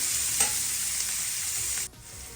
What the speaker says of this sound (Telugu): ఇలా ఫ్రై అవుతుంది